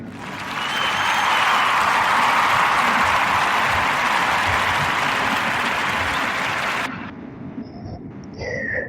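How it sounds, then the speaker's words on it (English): Loud, sustained audience applause for Brad Butler that swells quickly and holds steady, then cuts off abruptly near the end, leaving faint room sound. "clap it up for Brad Butler."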